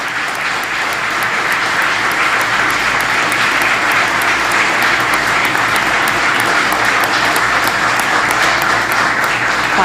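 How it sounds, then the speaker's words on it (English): An audience at an orange crop forecast presentation claps in sustained, dense applause, loud and even throughout without pause. "a round of applause for the work carried out"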